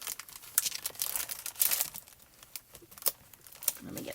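Crinkly fancy foil sheets from a penguin card kit rustle and crackle near at hand in short, uneven bursts, some quick sharp crinkles standing out against the quiet room.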